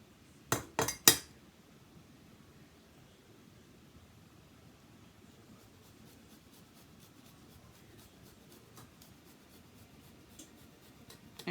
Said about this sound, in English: I'm just going to grate this in here